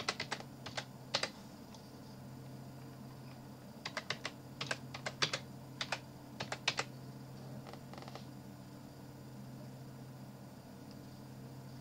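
Someone types a command on a computer keyboard in short bursts of rapid keystrokes separated by pauses, close and distinct over a low steady hum, with no talking.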